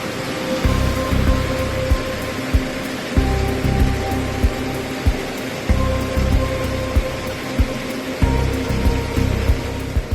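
Heavy rain from a severe supercell storm with hail, a steady loud downpour pounding in dense waves, surging and easing every few seconds with sharp impact thuds mixed in, no voices.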